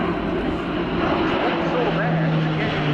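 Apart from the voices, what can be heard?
Airbus A400M Atlas military transport aircraft flying display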